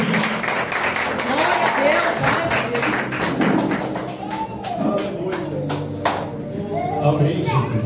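A church congregation claps during a worship service, a continuous patter of many hands under a voice speaking loudly over it.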